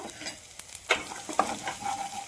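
Garam masala, turmeric, salt and chili powder stir-fried with brinjal for a village-style bhaji, a spatula scraping and clacking in several sharp strokes over a soft sizzle, close and alone.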